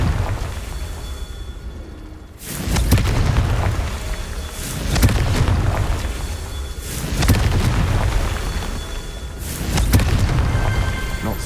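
A Confringo blasting spell goes off in Hogwarts Legacy, landing as a series of deep, rumbling booms about every two to three seconds, each one loud and close over a steady low roar.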